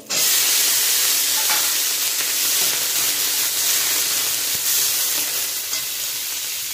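Onion flower stalks frying in a pan with nigella seeds, garlic and green chili give a loud, steady sizzle with stirring scrapes throughout, close up and without talk.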